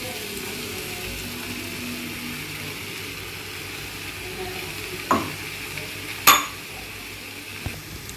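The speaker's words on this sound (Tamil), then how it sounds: "இப்போ கிளறி விடுங்க" A spoon stirs yogurt through a pot of vegetable biryani, giving soft scraping and shuffling under a faint sizzle, with two sharper metallic clinks against the pot.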